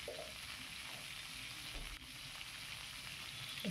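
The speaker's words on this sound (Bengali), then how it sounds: "আমি পুরো কপিটা নিয়ে নিই, হাফ মতন এখানে সেদ্ধ করে ভেজে নিচ্ছি" Parboiled cauliflower fries in a pan with a steady, soft crackling sizzle, faint and continuous, with a few quiet stirring clinks and no voices.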